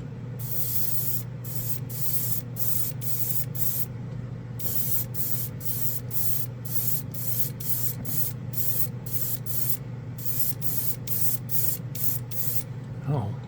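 Bursts of chrome paint from an SMS DragonAir airbrush hiss onto a black shiny spoon, many short sprays in a steady on-off rhythm over a constant compressor hum, fairly close and loud.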